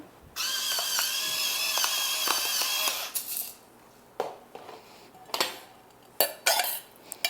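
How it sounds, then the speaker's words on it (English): Green olive tapenade being mixed with extra virgin olive oil and pepper, a few seconds of steady whirring blending followed by several sharp clinks and scrapes of a utensil against a bowl, close with no talk. "And we just mix that all together."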